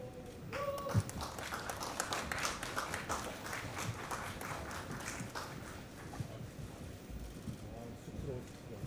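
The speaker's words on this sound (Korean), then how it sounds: "큰 박수 부탁드립니다" Applause from an audience at a press event for a Korean rock band's concert tour, dense and fairly distant clapping that runs steadily throughout, with a voice faintly under it.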